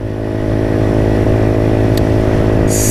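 Loud, close engine drone of a Motrac M5, a little Chinese clone of the Honda Grom, holding a steady revving throb for a few seconds with a brief high chirp near the end.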